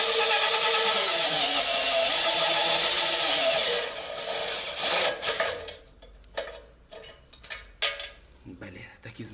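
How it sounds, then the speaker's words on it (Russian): A Makita drill bores a hole for the filler neck on a Kolkhida 4x4 truck, giving a loud, steady grinding whine for about four seconds before cutting out into scattered rattles and clunks. "Сейчас сверлим отверстие для заливной горловины."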